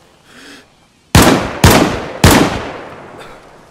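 Three loud, sharp DMR rifle shots in the video game DayZ, fired in quick succession with short decaying tails, preceded by a faint murmur.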